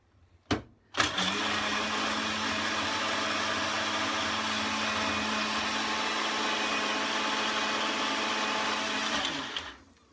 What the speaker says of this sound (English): If you're using a standard blender, your honey will go right down the bottom into the blades